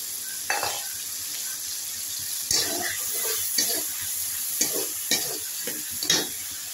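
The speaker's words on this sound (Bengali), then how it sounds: "আমি এর মধ্যে এখন চিংড়ি মাছগুলো দিয়ে দিচ্ছি।" Prawns tipped into hot oil with cooked-down spices for a prawn and papaya curry, a soft sizzle punctuated by several bursts of stirring and spatula knocks, fairly quiet and without speech.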